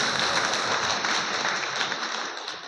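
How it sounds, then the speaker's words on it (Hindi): Audience applause at a public meeting, a dense, even burst of clapping from a crowd that holds steady and fades slightly toward the end. "तालियां, जोरदार तालियां।"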